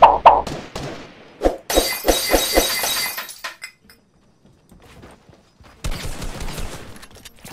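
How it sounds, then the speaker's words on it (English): Rapid bursts of Fortnite gunfire, a quick string of sharp cracks with glassy, shattering impacts, followed by a lull and then renewed clatter. "I'm gonna shoot him."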